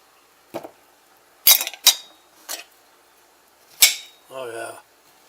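Knife cutting through cooked beets that have been boiling about 45 to 50 minutes, heard as a few separate soft, close clicks and slicing strokes, ending in a brief low tone.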